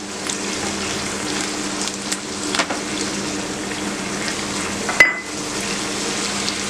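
Spring onions sizzle steadily in a hot pan for chilli paneer, a continuous close frying hiss with a brief utensil clack near the end.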